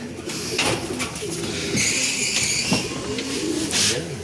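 Racing pigeons coo in a loft after returning from an OB derby race in Gumaca, Quezon, with several overlapping throaty coos and soft wing or shuffling noises close by.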